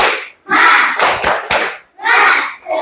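A fifth-grade primary school class in Indonesia claps together in a quick rhythmic cheer pattern, short bursts separated by brief pauses, mixed with children's voices.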